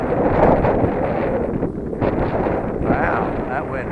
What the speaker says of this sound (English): that wind up there is really strong